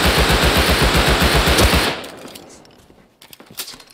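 Rapid automatic gunfire in the video game Rust, a steady loud stream of shots for about two seconds that then cuts off, followed by a few scattered distant sounds.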